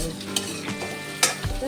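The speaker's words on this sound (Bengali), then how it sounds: "এরপরে কুচনো পেঁয়াজ দিয়ে দিলাম। পেঁয়াজটা একটু হালকা ভাজা ভাজা হতে হবে," Chopped onion fries in a pan with fenugreek seeds, making a loud, steady sizzle close up, with a few sharp clacks of stirring.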